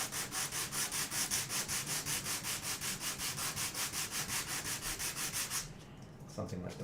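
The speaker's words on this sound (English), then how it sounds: "There, and then something like the side here, I'll use the sandpaper." Sandpaper rubs back and forth on the side of a scale model, a close, loud rhythmic rasp of quick even strokes that stops near the end, leaving a quieter pause.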